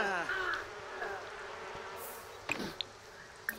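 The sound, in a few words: bees buzzing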